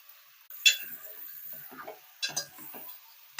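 Fish pieces, tomato and drumsticks in a village-style curry are stirred in a pan, making quiet, intermittent scraping and clinking strokes over near silence.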